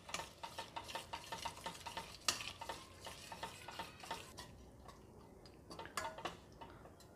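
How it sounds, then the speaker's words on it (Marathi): Yogurt is stirred into egg biryani masala in a pan, a spoon scraping and knocking in a regular rhythm over a soft, low sizzle, close and fairly quiet, with no one speaking. "दही घातल्यानंतर एकसारखं हलवत राहायचं आहे"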